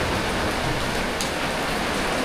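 Steady, dense rain falls at a bus parking area in Pasay, a continuous broadband hiss of drops with no pauses, fairly loud and close throughout.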